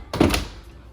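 An oven door swings shut with one solid, close thunk after a tray of Cajun crab stuffed shrimp goes in to bake at 400 degrees. A short dull resonance follows.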